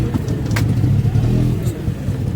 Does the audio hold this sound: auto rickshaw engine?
yes